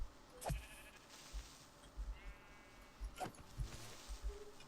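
Sheep bleat in a Minecraft village with cows and other animals nearby, two wavering cries a few seconds apart over soft ambient game noise and scattered footstep-like thumps.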